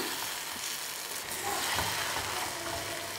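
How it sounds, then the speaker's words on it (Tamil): Chettinad potato masala sautéing in oil in a pan, a soft continuous sizzle with faint scraping, close and fairly quiet, without speech. "இந்த உருளைக்கிழங்கு மசாலா வந்து நல்லா வதங்கி தான் எடுத்து வைப்போம்"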